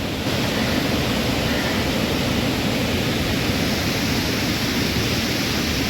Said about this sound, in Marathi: आता वरतून पवना डॅममधनं पाणी सोडले म्हणून ही अशी वाहती आहे.